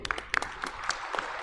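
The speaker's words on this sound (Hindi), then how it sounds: "एक ताली उनके नाम से बजनी चाहिए।" Audience applause at an induction event, a short stretch of steady scattered clapping from a crowd filling the room without talk.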